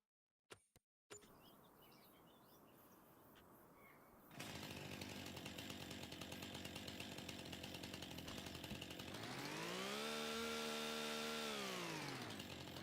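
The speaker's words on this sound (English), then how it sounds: "That's the most anemic chainsaw I've ever used." A chainsaw in Farming Simulator 25 idles with a steady, fairly loud drone after a few short clicks, then revs higher into a rising and falling harmonic whine before easing back down.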